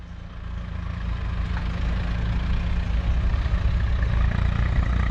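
Engine of a manual car left in first gear with the clutch fully released and no throttle, a low steady idling drone that grows slightly louder as the vehicle creeps along, close and continuous.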